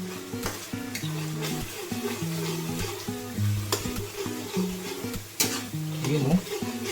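Chicken curry being stirred in a sizzling frying pan, with steady frying hiss and repeated scraping strokes of a utensil against the pan throughout, close and clear, with no talk.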